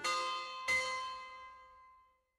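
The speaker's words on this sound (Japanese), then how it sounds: "この鐘の音は どうやら午後の授業が終わった時刻のようだな。" A school bell in a video game rings twice, the first stroke ringing out and a second strike following shortly after, then a long bright tone fading to silence.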